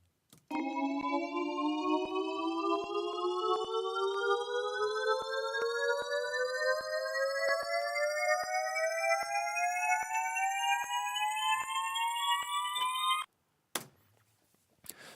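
Synth riser built in Logic Pro X: a bright stacked tone climbing steadily in pitch for about thirteen seconds, loud and continuous, then cutting off abruptly.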